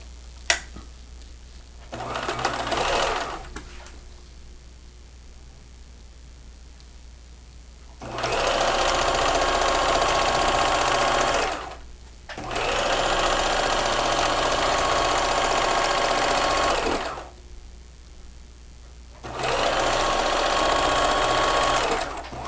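Sewing machine running a straight seam on men's shirts, in several sustained bursts of rapid, even stitching separated by quiet pauses, with a sharp click at the start.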